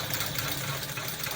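A sewing machine stitching down the V-neck of a bodice, giving a steady, continuous mechanical whir at close range throughout, with no talking.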